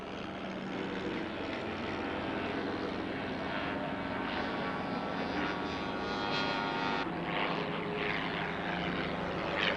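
A homebuilt propeller airplane flies past at an airshow, its engine droning loud and steady throughout with a slight shift in tone near the end as it passes.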